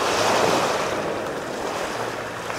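Sea water washes in waves along a shoreline, a loud, steady rush of surf with some wind noise blowing across it and no speech.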